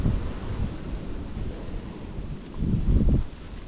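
Strong gusty wind buffeting outdoors beside deep pools while fishing, a broad low rumble that swells and surges loudly near the end, with no voices.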